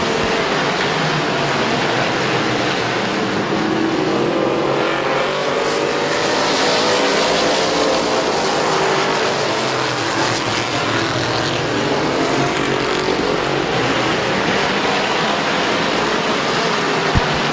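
Race cars roaring around Midvale Speedway during a close race, a loud continuous engine drone that swells and fades as the pack passes, with no commentary audible.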